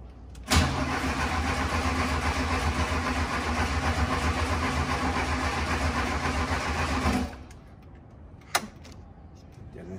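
A car engine cranks and grinds steadily for several seconds, then cuts out without catching, leaving a quiet pause broken by a single sharp click.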